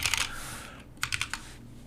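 Computer keyboard keys are struck in two short bursts of crisp, close clicks separated by a brief pause, with soft room hush in between.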